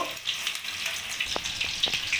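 Chicken pieces for chilli chicken fry in a wok with a close, continuous crackling sizzle and occasional sharp pops and light scraping as the pieces are turned, with no speech.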